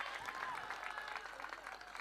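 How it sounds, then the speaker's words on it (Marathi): Faint, distant applause rises from the audience at a local cricket match, a soft patter of many hands with voices murmuring underneath. "प्रेक्षकांना विनंती आहे टाळ्या वाजवायच्या"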